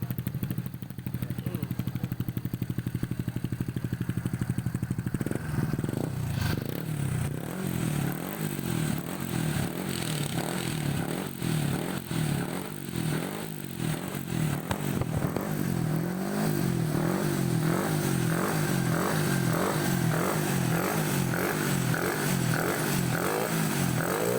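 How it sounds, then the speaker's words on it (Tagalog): A Honda XRM 125 motorcycle with a 57mm bore kit and a C5 head revs repeatedly at close range. Loud rhythmic engine pulses run the whole time, with a clattery mechanical edge, and there is no talk. "Rev natin mga do, konti."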